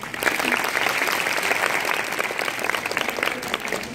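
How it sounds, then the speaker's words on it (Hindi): An audience at a health lecture breaks into steady, full applause, many hands clapping together at close range for several seconds with no pause. "ऐसी बात पे तालियां बजाते हैं।"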